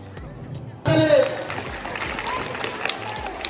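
Schoolchildren at a school quiz competition burst into sudden applause that starts loud, then settles into steady, scattered clapping from a nearby crowd of students for a few seconds.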